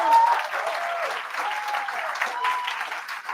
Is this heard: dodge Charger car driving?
no